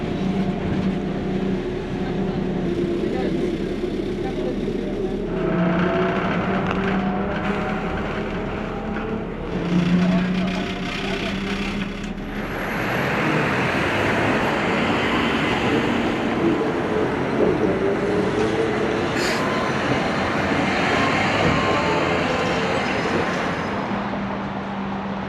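An old city bus in Vilnius rumbles along with a steady engine drone and road noise, rising and shifting as it changes speed, with rattles and a brief high squeal near the end.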